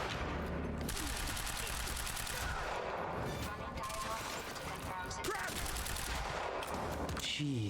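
Sustained automatic gunfire from a heavy gunner enemy in the shooter video game Quantum Break, dense rapid bursts filling the whole stretch with loud crackling shots and someone talking over the battle.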